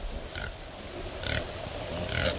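Backyard pigs grunt and snort close by in wet weather, three short rough grunting bursts spaced about a second apart over a steady background hiss.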